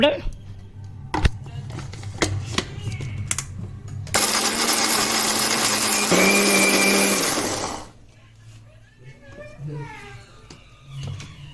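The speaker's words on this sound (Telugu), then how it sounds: "మిక్సీ పట్టుకుందామండి." A mixer grinder grinds raw whole spices for a chicken curry masala in a short loud whirring burst of about four seconds, between stretches of quieter kitchen sounds and a voice talking.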